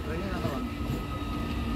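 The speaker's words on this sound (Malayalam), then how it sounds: "അതാ നമ്മുടെ ട്രെയിൻ രണ്ടാം പ്ലാറ്റ്ഫോമിലൂടെ മന്ദം മന്ദം വന്നുകൊണ്ടിരിക്കുന്നു" A train rolls slowly into platform two of a railway station, a steady low rumble throughout with faint rail noise over it.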